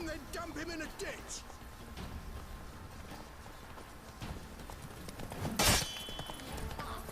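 Horse hooves clip-clopping in The Witcher 3 during a fight, a faint steady patter running under game sounds and voices, with a brief louder burst near the end.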